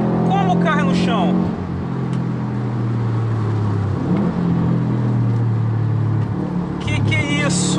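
Stage 2 tuned Subaru WRX STI making about 300 awhp, engine rising under load with a rough intake rumble heard from inside the car, steady and loud, while voices talk over the start and end.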